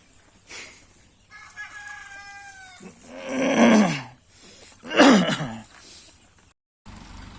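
A desi country rooster crows twice in a farmyard, loud and near, with softer clucking from other country chickens before the crows and a brief silent break near the end.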